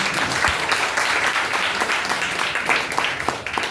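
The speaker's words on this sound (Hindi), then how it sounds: "सब लोग ताली मार रहे हैं।" A church congregation claps steadily and densely, a continuous wash of many hands applauding with no talk over it.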